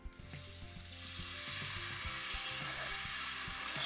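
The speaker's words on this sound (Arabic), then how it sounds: "هترشه بقى بالميه" Water sprinkled into a hot pan of toasting flour for a chicken curry dish, bursting into a loud hissing sizzle that swells within a second and holds steady, close up with no voices.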